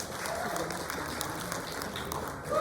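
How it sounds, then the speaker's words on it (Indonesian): Applause from a seated audience at a sales seminar, honouring a woman who has just given a testimonial, a continuous even patter of clapping at moderate volume filling the whole stretch. "Tepuk tangan bagi untuk Erika Santos."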